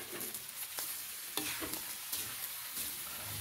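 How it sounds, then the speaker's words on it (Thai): Southern Thai-style yellow noodles with fish balls and chopped kale stir-fry in a pan, with a constant sizzle broken by irregular scraping spatula strokes. No one speaks. "เริ่มผัดต่อเลยครับ ตามด้วยลูกชิ้นปลาอีกประมาณ100กรัมครับ"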